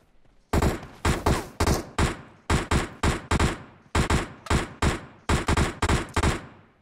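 Rapid automatic weapon fire in PUBG Mobile, arriving as a string of short, loud, close bursts of several shots each, separated by brief pauses, with no talking.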